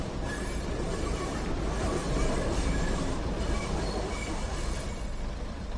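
The Flying Scotsman steam train running in the Train Sim World video game, a steady rumbling roll of wheels on track with faint squealing, constant and near throughout.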